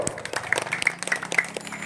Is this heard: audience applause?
yes